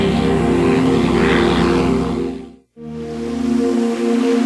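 Piper Saratoga II single-engine propeller plane taking off, a loud, close, steady engine drone with a rich buzzing hum that drops to brief silence midway, then returns just as strong.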